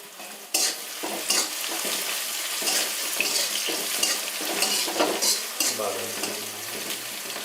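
Onion and crushed garlic fry in a pan for chicken bhuna khichuri with a steady close sizzle, punctuated by scraping, clattering stirs of a spoon against the pan, and no speech.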